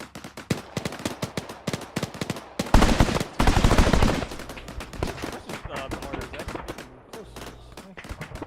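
Gunfire in a co-op military shooter game: rapid single shots and short bursts crackle throughout, with a dense, louder volley in the middle, alongside faint background voices.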